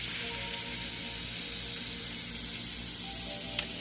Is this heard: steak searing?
yes